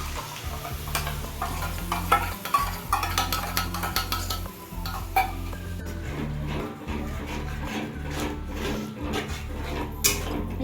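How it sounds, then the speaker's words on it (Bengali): Masala with poppy-seed and raisin paste fries in oil while being stirred for a vegetarian alur dum, a steady close sizzle with scraping spoon strokes against the pan throughout. "এটা দিয়ে আবার ওরকম তেল ছাড়ার মতো কষাতে হবে"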